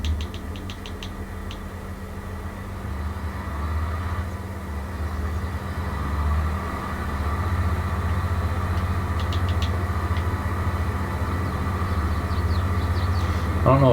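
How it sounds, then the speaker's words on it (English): A tractor engine idles in the Farming Simulator video game, hitched to a planter. It is a steady low drone that runs alone and swells slightly louder over time. "I don't know if this tractor quite has the oomph for this planter"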